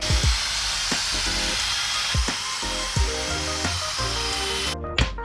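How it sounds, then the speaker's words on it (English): A drill grinds steadily while cutting around a metal bushing to free its sleeve, producing a harsh, rasping whir broken by repeated knocks and clunks. The noise stays loud throughout and stops abruptly near the end. "I am drilling around the bushing so that way we can pull this metal sleeve out."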